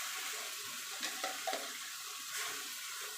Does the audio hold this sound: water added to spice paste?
yes